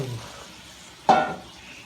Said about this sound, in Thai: น้ำแกงเดือดใส่ไปเลย